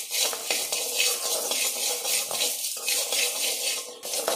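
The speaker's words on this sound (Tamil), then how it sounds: "இப்போ உளுந்தம்பருப்பு போட்டிருக்கு, இதையும் நல்லா பொன்னிறமாகவே வறுத்துக்கோங்க" Urad dal is dry-roasted in a pan until golden and stirred with a spoon, giving soft rhythmic scraping and rattling strokes that repeat every half second or so, close by and with no talking.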